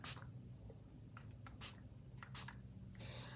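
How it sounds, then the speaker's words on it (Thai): A cosmetic spray bottle in a skincare and makeup ASMR session gives several short, close hissing bursts at uneven intervals, with a longer spray at the end and no talking. "เดี๋ยวแถมเสียงสเปรย์ให้"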